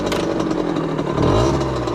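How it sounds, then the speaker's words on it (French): A motorcycle engine starts and settles into a low, rumbling idle, loud and close, with a brief rise in revs near the end. "Donc là, on va démarrer notre moto."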